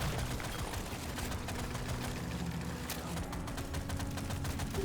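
Continuous rapid gunfire from the video game Deep Rock Galactic: Survivor, dense bursts over a steady loud background mix, with no talking.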